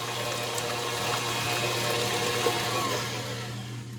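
An electric whisk beats baked sweet potatoes into pie filling with a continuous low motor hum and a wet, churning whir, steady and close.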